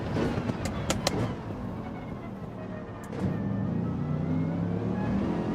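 A Gran Turismo 7 race car engine whines and revs steadily in a racing game, rising in pitch near the end, loud and continuous with no talking.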